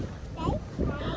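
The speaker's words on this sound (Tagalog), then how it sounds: "Sobrang lakas ng hangin." Strong wind gusts buffet the microphone on a beach while a kite is flown, a steady roar with two heavier surges, and voices talk faintly under it.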